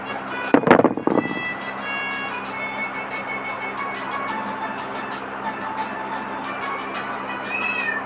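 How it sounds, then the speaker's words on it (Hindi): A cat gives a short loud meow near the start, then a steady background hum with faint tonal sounds continues for the rest. "म्याऊ"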